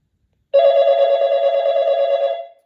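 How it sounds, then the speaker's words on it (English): Renny loud cell phone ringer and amplifier sounding a single long, loud electronic ring with steady harmonic tones, starting abruptly after a brief silence and fading at the end. "we're getting a loud ring through Renny."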